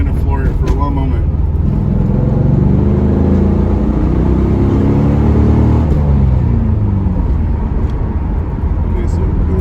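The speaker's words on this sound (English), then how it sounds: "we're gonna build up the torque, then we're gonna floor it for 1 moment" A Chevrolet Camaro Z28 F-body at full throttle, a loud, deep engine roar heard from inside as it builds torque and pulls hard, with the rising drone and whir filling the cabin throughout.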